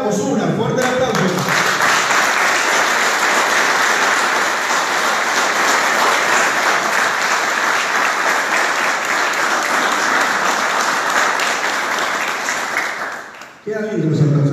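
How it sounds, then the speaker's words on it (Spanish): Loud, sustained audience applause at a political candidate-list presentation, dense clapping that runs unbroken for more than ten seconds before stopping abruptly, after which talk resumes. "Fuerte el aplauso."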